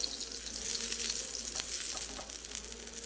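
Oil-brushed aubergine slices frying in a Cookeo multicooker give off a steady, close sizzle with a hissy crackle that holds through the whole short stretch, with no talking.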